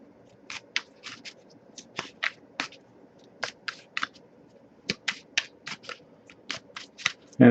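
Crisp bursts of playing cards being shuffled repeat in quick, irregular riffles, close and clear against a quiet background.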